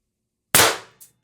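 A Beeman BP50 carbine air rifle with a 16-inch barrel, charged to 800 psi HPA, fires one sharp, loud shot that decays over about half a second, followed by a brief faint click.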